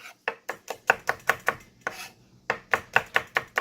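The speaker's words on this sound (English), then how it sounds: "just slice it really thin" Peeled garlic is sliced thin with a knife on a cutting board in quick, close, crisp taps, about a dozen evenly spaced strokes with one short pause midway, and no talking.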